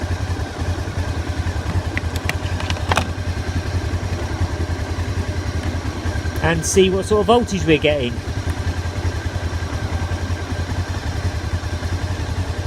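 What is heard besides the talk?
motorcycle engine idling during charging test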